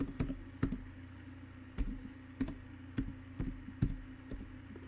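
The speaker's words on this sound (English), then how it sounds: "Typing with one hand here." Someone types one-handed on a computer keyboard, making quiet, irregular key clicks spaced a fraction of a second to a second apart. A faint hum sits underneath, and no one speaks.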